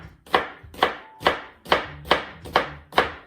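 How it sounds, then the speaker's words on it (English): Steady knife chops through an onion on a cutting board, seven evenly spaced sharp thuds, close and distinct with no talk. "Just dicing my onions here."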